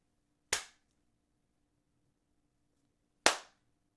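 Two sharp hand claps, well separated and close, each a crisp isolated crack in an otherwise quiet room, used to start and stop a sound-activated timer.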